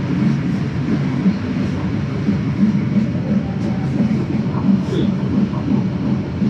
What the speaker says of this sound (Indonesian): dari sebelah kanan udah ada kereta lainnya